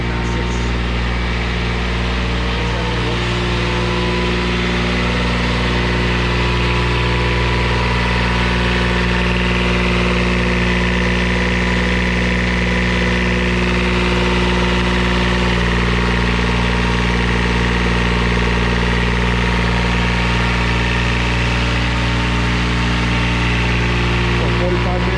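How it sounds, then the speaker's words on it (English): Truck auxiliary power unit for a Kenworth T680 running on a test stand under full diagnostics, a loud, steady, low idling drone with constant vibration throughout, with people talking over it. "This is where we're doing full testing of our APUs. We run these about 45 minutes,"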